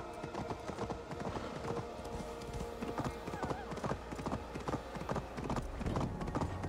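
A horse gallops in Assassin's Creed Valhalla with fast, steady clip-clop hoofbeats that continue without a break. A brief neigh rises over the rhythm.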